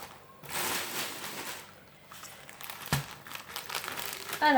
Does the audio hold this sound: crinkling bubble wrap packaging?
yes